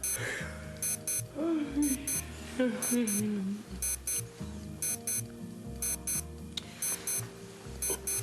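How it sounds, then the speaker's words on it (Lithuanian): An alarm clock rings in rapid bursts of bright beeping, repeating in a steady rhythm, with a voice and background sound underneath. "Nosis skambina žadintuvas."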